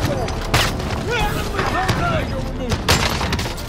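A battle royale video game fight with dense, loud gunfire and booming explosions that keep coming over steady game noise, with voices talking throughout.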